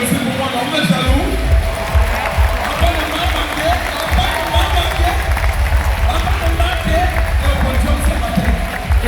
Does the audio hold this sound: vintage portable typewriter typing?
no